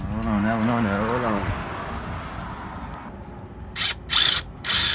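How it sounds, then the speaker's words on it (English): A ratchet loosens brake bolts on a 2005 Ford F-150 during front and rear brake pad and rotor replacement. A steady mechanical whine fills the first part, then three short, loud bursts of rapid clicking follow near the end. "take your 10mm, loosen these bad boys up"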